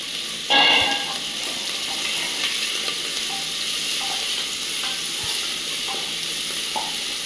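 Chopped onions for yakhni pulao hit a hot pan with a sharp clatter, then settle into a continuous close, bright sizzle with occasional soft stirring taps. No voices.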